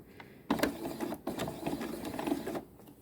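A sewing machine runs a straight stitch on a drawstring bag, a quiet rapid mechanical whir with a few brief pauses and restarts, close by.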